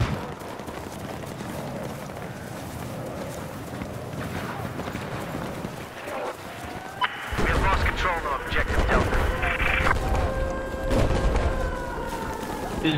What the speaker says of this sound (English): We're shooting at him right now.